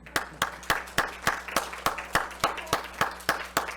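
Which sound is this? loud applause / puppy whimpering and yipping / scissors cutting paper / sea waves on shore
loud applause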